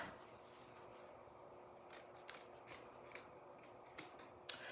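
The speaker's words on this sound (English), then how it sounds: "I know this is not exciting to sit here and watch me cut." Scissors snipping through canvas fabric, a series of faint, close crisp cuts spaced about a second apart over a steady hiss of background noise, with nobody talking.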